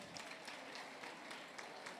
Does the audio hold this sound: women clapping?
yes